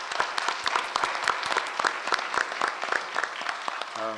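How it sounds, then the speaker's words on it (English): A city council meeting audience applauds council staff, with a crowd of hands clapping steadily throughout and sharp individual claps standing out near the microphone. "So let's give them all a round of applause."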